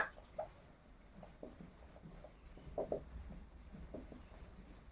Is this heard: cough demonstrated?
no